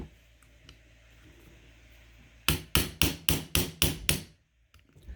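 A hammer taps an XS big dot sight into place on a Ruger LC9s pistol, with six sharp, evenly spaced strikes close by, then a couple of faint clicks.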